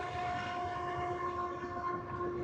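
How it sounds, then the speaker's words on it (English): Trains climbing the hill at Goffs, a desert railroad town on a double-track main line with a siding, heard as a loud steady rumble of rolling railcars with sustained horn-like tones, continuous and close, with no talking. "So the trains are climbing from both directions."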